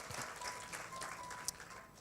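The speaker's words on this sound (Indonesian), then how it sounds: "berikan tepuk tangan kita untuk Tuhan kita." Church congregation giving applause during a service, a quiet, fairly distant patter of many hands clapping with a few sharper individual claps poking through.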